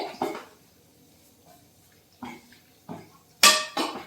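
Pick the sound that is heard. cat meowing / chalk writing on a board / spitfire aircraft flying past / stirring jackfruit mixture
stirring jackfruit mixture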